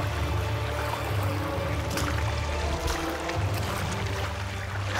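River water rushing and splashing steadily around someone wading across a cold Newfoundland river, a continuous close wash with occasional sloshes and no voices.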